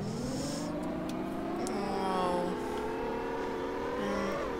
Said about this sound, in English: Driving a car with the trigger instead of